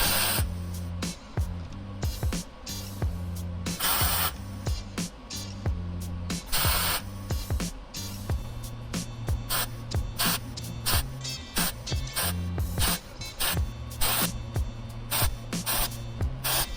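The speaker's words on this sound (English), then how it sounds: "I have officially welded up my very first drive shaft." A steel driveshaft being shortened for a 5.3-swapped S10 Blazer is welded in repeated bursts, with harsh sputtering crackle starting and stopping over a steady electrical buzz.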